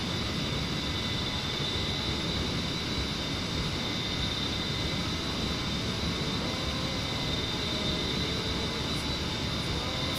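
A-10C Warthog jet engines at maximum power in the DCS flight simulator, a loud continuous roar with a steady high whine, unbroken for the whole stretch.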